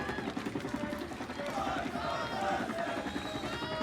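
Crowd roaring at a wrestling match in Grand Theft Auto, a dense, steady wall of cheering and shouting that stays loud throughout.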